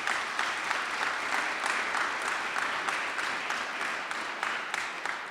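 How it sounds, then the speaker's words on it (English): Steady, dense applause from an audience at a soil and water conservation rally at the Illinois Capitol, sustained evenly throughout with no voices over it. "a big round of applause for yourselves"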